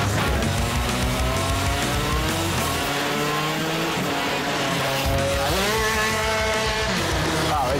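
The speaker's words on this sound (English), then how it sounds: "It'd be better if we run just straight up, side by side, drag down, just like an actual real race." Shifter karts revving hard side by side on a slippery track, with loud continuous engine whine rising and falling through gear changes and occasional tire squeal, close and dense throughout.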